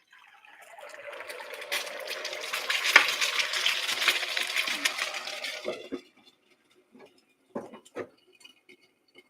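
Hot steamed liquid pours over chilaquiles in a pan, a steady splashing, sizzling wash lasting several seconds before it stops, followed by a few brief clinks and taps.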